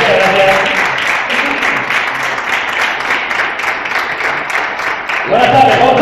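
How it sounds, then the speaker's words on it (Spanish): Sustained audience applause fills an awards gala hall, a dense steady wash of clapping with voices faintly mixed in and a tonal swell near the end. "Un fuerte aplauso."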